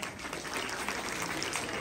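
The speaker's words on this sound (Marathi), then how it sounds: "राजश्री वनिश्री टाळ्या वाजवा" An audience claps continuously at a lively women's home-minister-style game show event in Markal, a dense, steady patter of many hands close by, with no voices over it.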